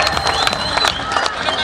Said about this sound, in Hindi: एक बड़ी ताली तो बनती है ना